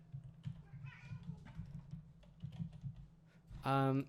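A house cat lets out one loud, drawn-out meow close by at the very end, after a stretch of quiet computer keyboard typing.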